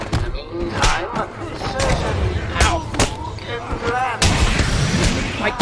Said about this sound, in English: his freaking fists sound like gunshots